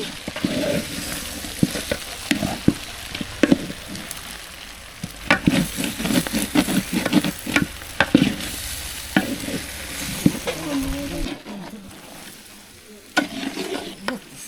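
Winter vegetables being sautéed for khichuri in a pot, with loud sizzling and frequent clanking, scraping stirs of a spoon against the metal, growing quieter toward the end.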